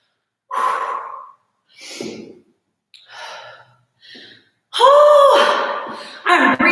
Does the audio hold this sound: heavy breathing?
yes